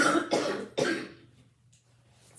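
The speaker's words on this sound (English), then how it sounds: "I can tell tonight's going to be a night where I cough." Three quick, harsh coughs in a row from a person indoors, close and loud, then fading into near quiet.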